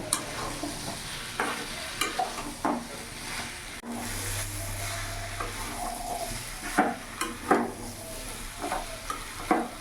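A spatula works boiled, fried jackfruit and potato through spices in a pan, giving rhythmic scraping strokes over a continuous sizzle, near and loud, with no one talking.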